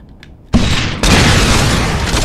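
Rocket launcher explosion in the Saints Row 2 video game: a sudden loud broadband blast followed by a second heavier boom that rumbles on continuously, close and dominant with no talking over it.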